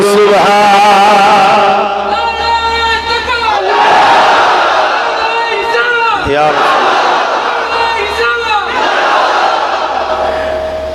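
A large crowd at a religious sermon gathering roars a slogan back in unison, with repeated loud chanted calls and bellowing response swelling across several waves.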